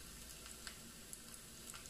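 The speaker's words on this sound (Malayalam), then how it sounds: "ഇനി നമ്മൾക്ക് ഈ കറിയിലേക്ക് കുറച്ച് ഉള്ളി താളിച്ചിടണം." Onions tempering in hot oil for a homestyle chicken and potato curry, a steady close sizzle and crackle running throughout with a few sharper pops, no voices.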